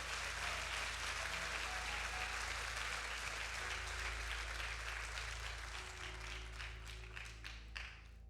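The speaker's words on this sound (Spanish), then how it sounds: "Dale un aplauso fuerte al Señor." A church congregation gives the Lord a loud round of applause, a steady broadband wash of clapping that holds throughout and thins into a few scattered claps toward the end, with organ or keyboard tones sustained underneath.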